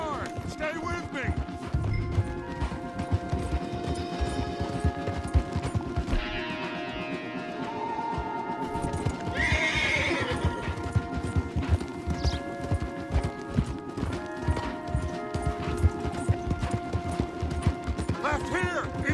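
Horses gallop hard in Red Dead Redemption 2, their rapid hoofbeats pounding continuously and loudly alongside tack rattle, a brief whinny and a game score, with voices talking over it.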